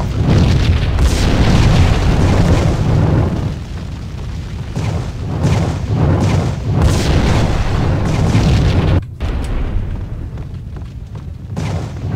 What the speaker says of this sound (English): Okay, so you have to stay behind the trail of explosions.